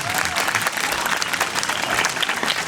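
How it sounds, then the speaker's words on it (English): Sustained audience applause for volunteers at a Cherokee dance and storytelling event, dense and steady clapping from a crowd throughout, with no pauses. "let's give our volunteers out here a nice round of applause"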